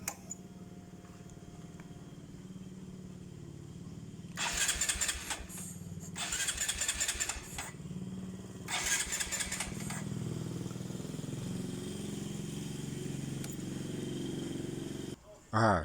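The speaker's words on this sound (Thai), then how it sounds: "จะสตาร์ทเครื่องยนต์นะครับ" A Honda MSX motorcycle with a starting problem cranks in three loud, rough bursts, then settles into a steady low idle that runs on until an abrupt cut, with some talk nearby.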